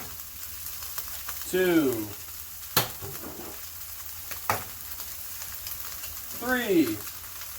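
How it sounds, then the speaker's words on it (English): Onions frying in a pan give a steady, soft sizzle throughout, broken by a couple of sharp clicks and interrupted by brief bursts of nearby speech. "while those onions are cooking"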